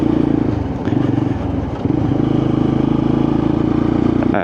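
Lexmoto LXR SE motorcycle on a test ride, its engine droning steadily and loudly up close with a brief shift in note partway through, accompanied by some mechanical clatter and wind.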